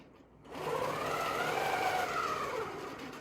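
A longarm quilting sewing machine starts up and stitches along a line with a smooth, steady mechanical hum that rises slightly in pitch and holds close and clear.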